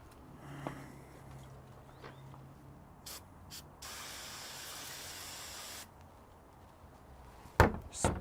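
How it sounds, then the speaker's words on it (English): A short spray of aerosol brake parts cleaner hisses for about two seconds at close range during Jeep Wrangler thermostat repair, preceded by faint workshop clinks and followed by a sharp metallic clatter. "Brake part cleaner."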